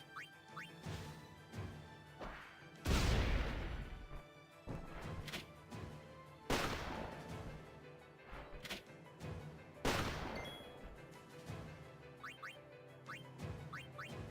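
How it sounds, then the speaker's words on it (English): Grenade explosions in a Final Fantasy X battle, three loud crashing blasts spaced several seconds apart, each with a rumbling decay, between smaller menu-like clicks and hits. "Now we're going to use grenades."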